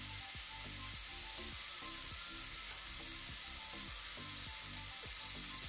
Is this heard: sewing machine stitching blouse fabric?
no